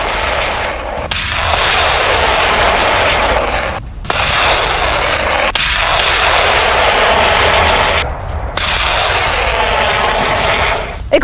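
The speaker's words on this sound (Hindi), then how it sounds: "जाउगन एमएलआरएस से ताबड़तोड़ फायरिंग हुई और यूक्रेनी ठिकानों को टारगेट किया गया" Rapid MLRS rocket fire aimed at Ukrainian positions: loud, sustained roaring bursts of launch noise, three long volleys separated by brief gaps, close and overpowering.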